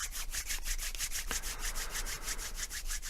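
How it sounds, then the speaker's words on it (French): Hands rub briskly together in a self-massage meditation, giving a quick, even series of dry swishing strokes, close and steady throughout, with no talking. "on frotte les mains."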